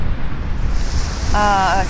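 Sea surf and gusty wind roar steadily at the shore in Nice, with a brief tonal whine from a passing aircraft near the end.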